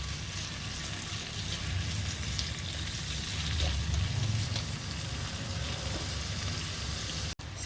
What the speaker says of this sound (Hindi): मैंने प्याज ले लिए। अब इनको मैं लाइट सा ब्राउन कर लूँगा।